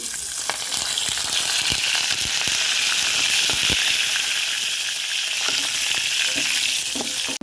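Urad dal, chana dal and curry leaves frying in hot oil for a gooseberry pickle tempering, a loud, dense, continuous sizzle with scattered crackles and occasional stirring taps, heard close and without speech.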